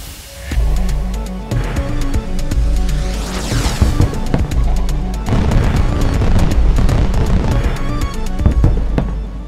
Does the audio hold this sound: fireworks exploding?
yes